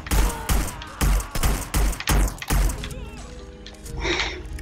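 Dual-wielded pistols firing in Hitman: Blood Money, a rapid series of about seven loud, punchy shots in quick rhythm followed by a ringing tail and a brief metallic reload clatter, no speech.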